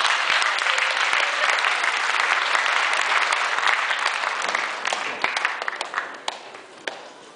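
An audience at a live comedy troupe show applauds steadily, with dense clapping that holds strong for several seconds and then thins out into scattered individual claps.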